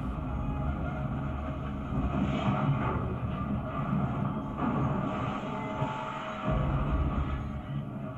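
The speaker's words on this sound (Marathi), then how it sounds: "भरधाव वेगाने जाणारी ट्रेन थेट प्लॅटफॉर्मवर चढली।" A Mumbai local train at Churchgate station rumbles steadily, a continuous low mechanical roar with slight swells in loudness and no voices.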